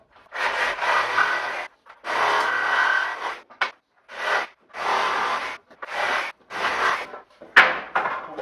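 Wooden boards pried off a pallet in a series of long, loud creaking and grinding bursts separated by short pauses, the last one ending in a sharp crack.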